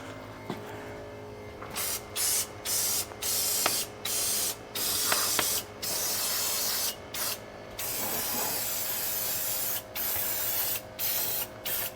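Brake cleaner sprays onto the oily engine bay of a vintage Mercury Comet in a series of loud, steady hissing bursts lasting about a second each, separated by short gaps.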